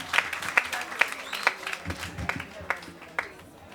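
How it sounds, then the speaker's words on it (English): Scattered clapping from an audience at a school parents' day event, irregular individual claps rather than a full ovation, mixed with some background voices and crowd murmur. "Clap her again, man."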